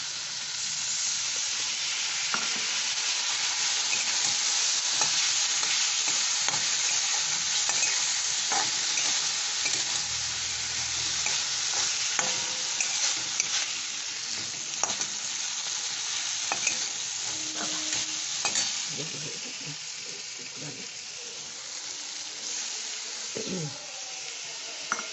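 Ginger paste masala stir-fried with a splash of water in a pan for a vegetarian chhana and matar dal bora curry, giving a steady loud sizzling hiss with frequent scrapes and knocks of the spoon throughout.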